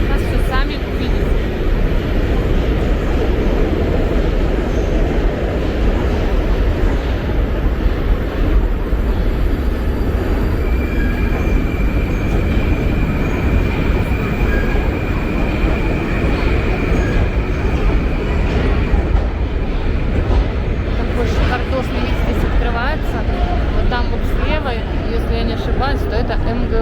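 A Moscow metro train runs through the glass-walled Vorobyovy Gory station, which sits above a river. It makes a loud, continuous rumbling roar that stays constant throughout, with faint voices beneath it.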